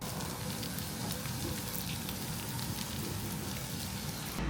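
Kimchi, bacon and cheese fried rice crackles in a pan with a dense, steady sizzle that fills the whole stretch, close and even, with no talking.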